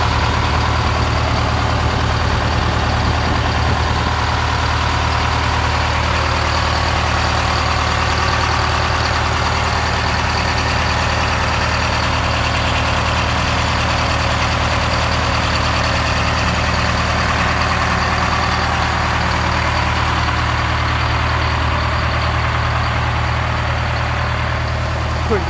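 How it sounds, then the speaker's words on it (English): A 1980 GMC RTS bus converted to an RV idles on its Detroit 8V71 diesel after a cold start. The engine gives a loud, close, unbroken low rumble that stays even for the full length, with no talking. "I want to give you a quick view of the 8V71 and a cold start"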